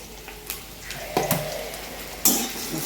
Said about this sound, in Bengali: এখন আলুগুলি ভেজে নিই